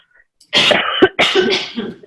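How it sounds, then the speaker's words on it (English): A close, loud coughing fit: one long harsh cough, a short sharp one, then another drawn-out cough, with no talking. "I need to cough."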